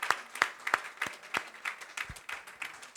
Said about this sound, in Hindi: मत हल्की कीजिए तालियों की गड़गड़ाहट को।